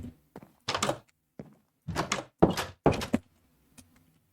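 Spruce trapdoors being placed in a block-building video game, a series of five or six short wooden thunks and clacks spaced irregularly, fairly close and clear with no talking over them.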